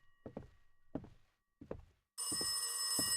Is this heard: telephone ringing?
yes